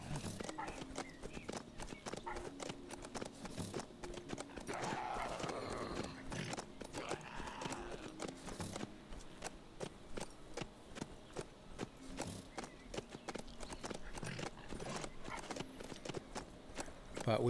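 Horse hooves clip-clop in steady rhythm in the survival game HumanitZ, set in winter, with an occasional whinny and a game music or ambience bed, while a person talks over much of it.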